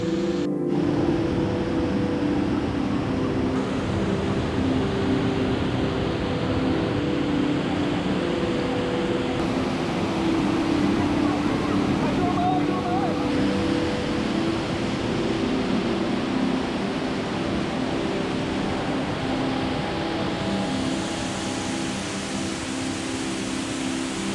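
A waterfall hidden in deep forest in Ranong, southern Thailand, gives a steady, dense, loud roar of rushing water that continues unbroken throughout, with no voices.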